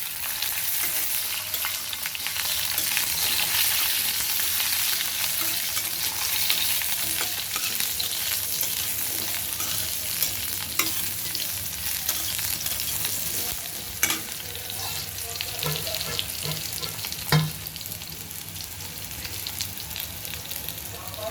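Eggplant pieces frying in hot oil for a rohu fish curry with cauliflower and potato, a steady close sizzle with occasional stirring clicks throughout, no talking.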